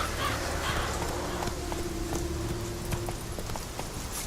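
Hooves of the horse Roach in a video game thud in a steady galloping rhythm over a constant ambient bed, moderately loud, with no talking.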